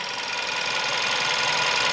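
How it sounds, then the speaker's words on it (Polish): A car engine with rough, uneven running and loss of power idles close by, a steady mechanical hum with a faint rapid ticking texture, heard alone for a couple of seconds. "słyszycie, że pracuje ten silnik"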